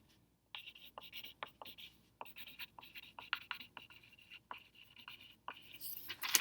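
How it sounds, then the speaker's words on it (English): A pencil writes on a sheet of paper up close, making quiet, scratchy strokes in short bursts with brief pauses between them. "take our piece of paper and across the top, we're going to write real numbers"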